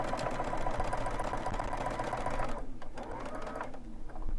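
A sewing machine runs steadily as it stitches along fabric for a casing, its whirring motor loud and close for about two and a half seconds before it slows and gives a few shorter, quieter bursts.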